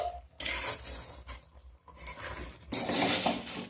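Ash gourd morabba stirred continuously in a pot, with bursts of metal spoon scraping and clattering against the pot separated by short pauses, close and fairly loud.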